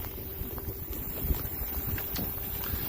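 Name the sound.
wind blowing during outdoor RC plane flight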